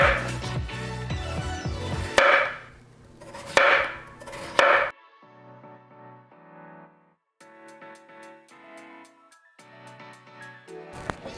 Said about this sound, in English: So I'll get rid of the round ones and then go uniform slices.